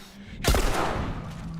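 A single sharp gunshot in a video game cracks out abruptly, then fades into a short ringing tail over faint background noise.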